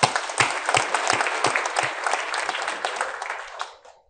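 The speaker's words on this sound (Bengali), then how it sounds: "তাদের জন্য আমরা একটা হাততালি দিই" An audience at the Notun Kuri 2025 award ceremony bursts into loud, dense applause that carries on steadily before tapering off at the end, with no voices over it.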